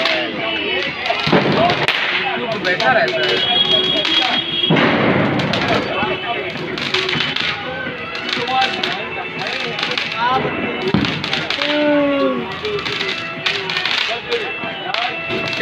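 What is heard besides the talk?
firecrackers and fireworks bursting at Diwali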